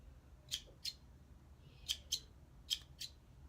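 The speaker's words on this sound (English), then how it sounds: "You have your little thread snippers. It snips the thread without a problem." Small thread snippers cutting fraying threads off fabric, six crisp close snips arriving in pairs with short pauses between, alone over a faint quiet background.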